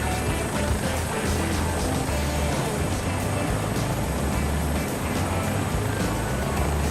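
A Bell 407 helicopter in Microsoft Flight Simulator 2024 with its updated sound pack runs in a continuous, close turbine whine and rotor drone, steady and loud throughout with no break.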